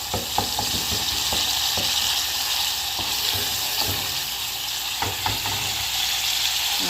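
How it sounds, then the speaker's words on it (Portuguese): Margarine melting in a hot pan makes a loud, continuous sizzle and crackle, broken by a few light scrapes and taps and no voices. "a margarina. Ela vai se dissolver aqui."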